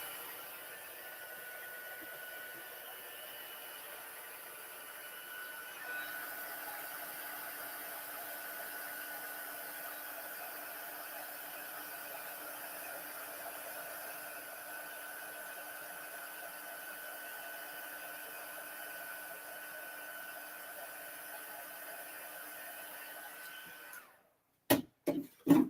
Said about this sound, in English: And then pull out my heat tool. Just waiting for that to heat up.